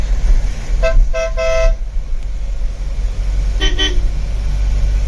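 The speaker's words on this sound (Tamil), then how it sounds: "நம்ம பழைய ஆரன், அதாவது மெகாசோனிக் ஆரனையும் இந்த ஆரனையும் நான் மாற்றி மாற்றி அடிச்சு காட்டினேன்" Ashok Leyland Bada Dost truck horns blare in turns, three short blasts of one horn and then a double honk of a different-sounding horn, loud over an idling engine.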